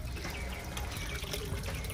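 Water flowing steadily through a homemade DIY pond filter, a continuous close rushing trickle with no voices.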